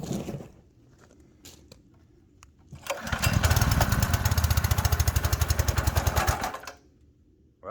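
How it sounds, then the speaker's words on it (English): A Simpson PS3228-S gas pressure washer engine catches on a pull and roars into a loud, steady, rapidly pulsing run for several seconds before cutting back, following quieter handling noises. "Now it's probably going to take a couple of pulls in order to get some gas into the engine,"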